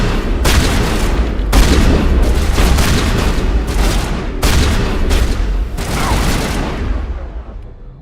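A shotgun in the video game Mass Effect fires several loud, booming blasts in quick succession, each with a heavy roar that overlaps the next, filling the clip before tapering off near the end.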